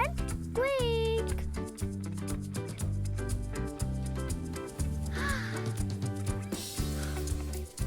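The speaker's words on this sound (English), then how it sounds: "Crow. This is a crow." A crow cawing, with one short rising call near the start, set over steady, loud background music that runs throughout.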